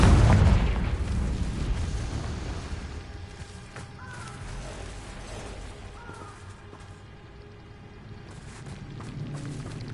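A Confringo fire spell bursting in Hogwarts Legacy, heard as a single loud booming blast at the start that fades into a rumbling, crackling tail under background game noise.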